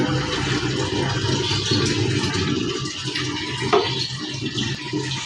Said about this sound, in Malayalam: ഇതിലേക്ക് നമുക്ക് വെള്ളം ഒഴിക്കാം.